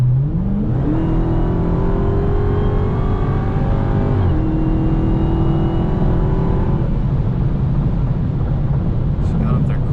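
A Dodge Challenger SRT Hellcat Widebody Daytona accelerates hard on a freeway, its engine note climbing steadily through the gears with a shift near the middle, loud and continuous under road and wind roar, with voices talking over it.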